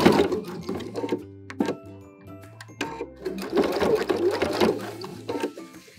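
Sewing machine backstitching along an apron hem, its motor whirring in short bursts that stop and restart, with the needle's rapid mechanical chatter close by and no speech.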